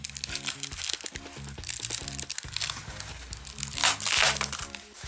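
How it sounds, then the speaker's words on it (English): Insulation being cut to size for a padlock frost cover gives close crinkling and crunching, with a louder, denser burst near the end over faint background music. "And then I cut the insulation to that measurement."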